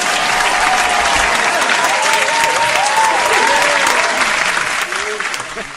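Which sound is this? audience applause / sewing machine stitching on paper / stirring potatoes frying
audience applause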